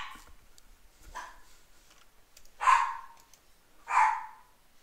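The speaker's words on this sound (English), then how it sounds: "I don't know what is up with the dog tonight" A dog barking indoors, a few faint early yips followed by two louder, distinct barks spaced about a second apart, with a quiet background.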